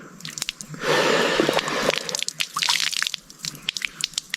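Liquid poured in a jungle setting, a steady splashing gush lasting about a second, surrounded by wet dripping and squishing sounds, close and fairly loud.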